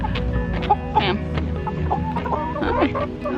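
Several chickens cluck in a backyard flock that includes a couple of roosters, with irregular close clucks and squawks over a steady background while people talk quietly nearby.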